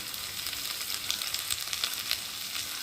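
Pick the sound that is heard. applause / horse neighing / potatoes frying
potatoes frying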